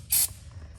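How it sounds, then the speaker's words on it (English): Carb cleaner sprayed down a petcock on a 1923 Ford Model T barn find: one short, loud aerosol hiss close up, then quiet mechanical background. "So I spray a little carb cleaner"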